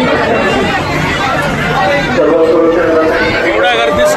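A dense crowd chatters near a Hindu temple, a steady close babble of many overlapping voices with no pauses throughout.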